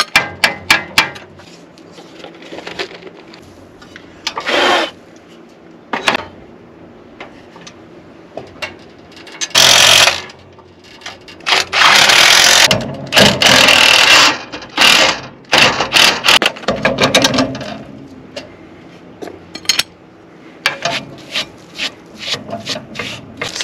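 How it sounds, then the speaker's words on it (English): Metal tools scrape and clank while bolts are worked loose on a corn cultivator, with bursts of rasping, ratcheting effort between quieter pauses, close and fairly loud, with no talking. "we're just gonna take the bolts off and hope that works."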